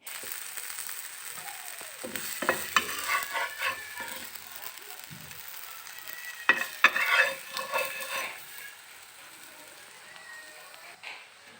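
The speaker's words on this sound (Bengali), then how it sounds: "এখানে আমি দুপুরের জন্য বেগুন ভাজি করে নিচ্ছি।" Eggplant fries in a pan with a soft sizzle under intermittent stirring and scraping, several sharp clatters of a utensil against the pan, close by and moderately loud.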